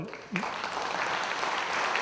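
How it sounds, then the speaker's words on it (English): Audience at a City of Hamilton Veterans Hall of Fame induction ceremony breaking into a round of applause, rising sharply after a brief quiet start and holding as a dense, loud wash of clapping. "give a big round of applause to our"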